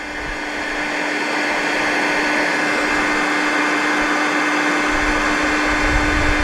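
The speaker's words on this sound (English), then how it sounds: "what I do is just hit it with the heat gun" Heat gun blowing hot air steadily over jig heads coated in Pro-Tec powder paint, a continuous close whooshing roar that swells slightly and holds for several seconds with no talking.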